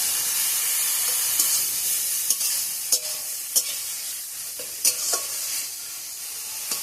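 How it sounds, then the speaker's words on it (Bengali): Ground shrimp paste with turmeric frying in a pan, a constant close hiss and sizzle broken by several sharp spatula scrapes and stirring knocks. "অল্পটুক হলুদ দিয়ে দেবো, এবার এটা খুব ভালো করে ভেজে নেব।"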